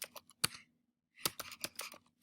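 Quiet computer keyboard typing in short bursts of sharp clicks, a few keystrokes, a pause of about half a second, then a quicker cluster of taps, close and soft.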